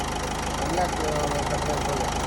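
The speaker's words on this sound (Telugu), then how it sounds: "ఇంజిన్ నాయిస్ని మనం అబ్జర్వ్ చేస్తున్నాం మిత్రులారా." A Ford Fiesta 1.3 with 139,000 km on it idles steadily up close during a carbon-cleaning treatment, giving a dense, even rumble with a regular pulsing beat and no break.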